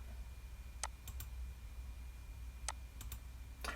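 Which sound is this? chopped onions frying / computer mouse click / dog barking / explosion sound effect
computer mouse click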